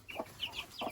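A Frizzle chicken gives two soft low clucks, one near the start and one near the end, with high rising peeps between them, quiet and close by.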